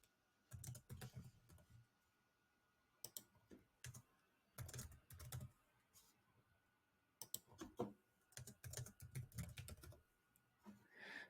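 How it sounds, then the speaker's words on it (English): Bursts of quick computer keyboard typing as words are entered, close and clear with short pauses between clusters of keystrokes in a quiet room. "Let me just type the translations here."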